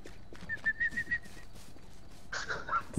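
Short whistle tones in the game H1Z1, a run of brief pitched chirps followed by a longer whistled note near the end, heard over constant background game noise.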